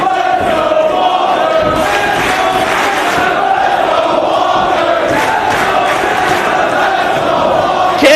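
A wrestling arena crowd at a 2004 ROH pure title match roars continuously and loudly for the full stretch, a dense wall of cheering and shouting with no pauses.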